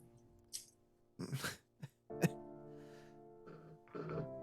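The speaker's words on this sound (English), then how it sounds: "She begins coughing hard, and you can hear it's deep in her now" A woman coughs hard with a deep, chesty cough. Several separate rough bursts are heard close up, with short quiet gaps between them and no talking.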